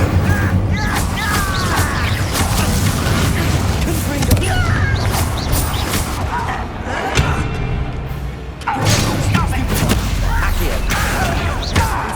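Spell effects from the Harry Potter game Hogwarts Legacy during combat, including the Incendio fire spell: a continuous barrage of magical bursts, thuds and mechanical clanks, loud and busy, with voices calling out over the fight.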